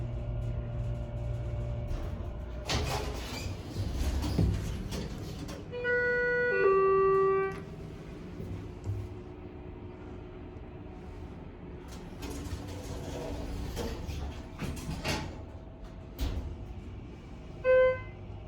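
A moving Schindler 330A hydraulic elevator car rattles and grinds along its rails in a mall, with scattered clunks, a few tonal electronic beeps, and a low mechanical hum throughout.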